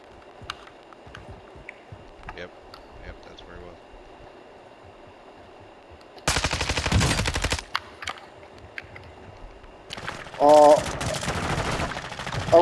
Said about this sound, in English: Whoa, I'm getting sniped at.